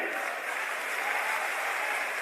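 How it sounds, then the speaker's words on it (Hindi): An audience claps during a cheque presentation by Chief Minister Yogi Adityanath, a brief, even and unbroken roar of applause heard alone at moderate loudness. "बस आपकी तालियां बजती रहें।"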